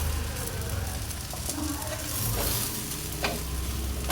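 A utensil stirs and scrapes in a pan of spices, turmeric and coconut over soft, steady sizzling, close up with no talking.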